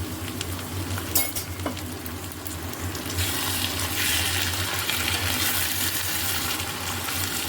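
A spice mix of ginger, garlic and green chili paste sizzles in a hot pan, then cooking water is poured in and the hiss swells into a louder, steady, bubbling sizzle that carries on to the end.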